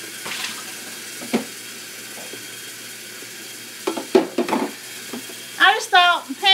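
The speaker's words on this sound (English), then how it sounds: "while I'm washing dishes, I might chat a little bit" Dishes being washed at a kitchen sink under running water, a steady wash of flowing water with intermittent clinks and splashes, and a voice talking briefly near the end.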